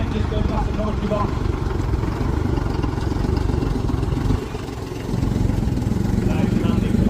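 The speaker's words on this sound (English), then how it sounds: "Little Leyland Comet just goes past the commentary box." A small Leyland Comet tipper lorry rolls past at a steam and vintage rally, its engine rumbling and clattering steadily at close range under continuous commentary.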